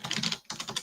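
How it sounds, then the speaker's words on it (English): Loud computer keyboard typing up close: rapid clattering keystrokes in two bursts separated by a brief pause, with no talking. "my keyboard is really loud"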